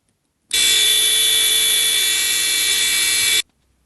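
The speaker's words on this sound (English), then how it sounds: "So the relay plainly works and the buzzer circuit plainly works" A loud relay-triggered electronic buzzer in a delay circuit blares in one continuous harsh tone for about three seconds, starting and stopping abruptly against silence.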